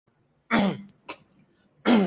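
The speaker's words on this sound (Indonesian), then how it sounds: "Tunggu ya kawan, batuk dulu." Two short, sharp coughs with a quieter throat sound between them, close and clear against silence.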